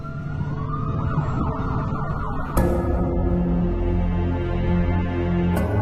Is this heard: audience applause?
no